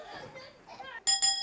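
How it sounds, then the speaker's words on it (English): A bus bell dings twice in quick bright succession near a playground, following a few seconds of children's voices and chatter. "Oh, there's the bus bell."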